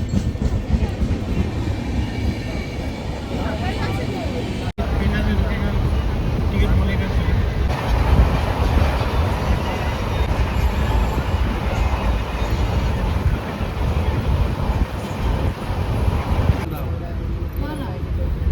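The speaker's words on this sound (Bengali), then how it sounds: "ট্রেন ঢুকে গেল আমাদের।" Loud, steady rumble of a train rolling in alongside a platform, with rattling wagons and a sharp jolt partway through, under murmured voices.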